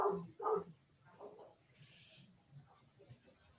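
Several young dogs barking in short bursts, two loud barks close together at the start followed by fainter yaps and whimpers, with soft background noise of people nearby.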